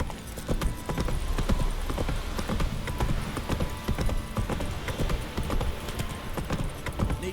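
Roach, a horse in the video game The Witcher 3, trots along with steady, close, rhythmic clip-clop hoofbeats under a continuous ambient background.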